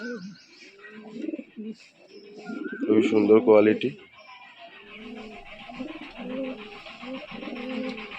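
A pair of Arshad-line pigeons, a male and a female, coo in soft repeated bursts that swell loudest near the middle, while someone talks over them close by.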